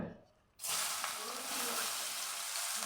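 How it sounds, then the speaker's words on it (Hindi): Chopped onions drop into hot oil in a kadai and burst into a loud, steady sizzle that fills the rest of the clip after a brief quieter start. "मेरे कढ़ाई में तेल डाल दिया है, तो इसमें मैं अभी प्याज डालूँगा।"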